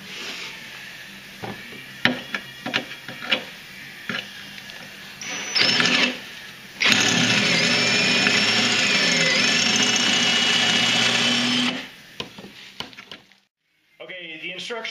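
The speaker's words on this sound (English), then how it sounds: "You need to drill them out from the inside in the clutch area." Bursts of a power drill whine up and down while drilling out rivets in an airframe, then a long sustained drilling run, with brief knocks and pauses between.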